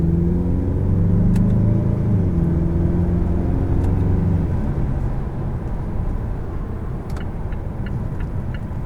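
A 2018 Mazda6 Turbo accelerates hard from inside the cabin, a loud steady engine rumble climbing in pitch, easing briefly as it shifts, then building again under road noise.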